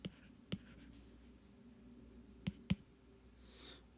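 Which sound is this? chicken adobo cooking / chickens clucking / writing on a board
writing on a board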